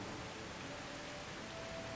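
Heavy rain in the game Medieval Dynasty makes a faint, steady broadband hiss of falling water with no distinct drops or pauses.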